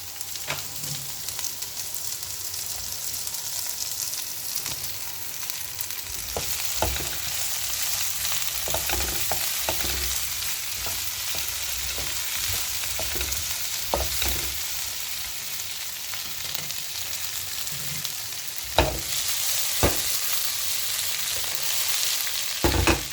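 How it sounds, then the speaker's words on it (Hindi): Okra (bhindi) fries in a little oil, a steady crackling sizzle with scattered clicks and scrapes of stirring, close and fairly loud throughout with no talking. "इसे मैं करूँगी 4 से 5 मिनट तक फ्राई, हल्के ऑयल में बिल्कुल।"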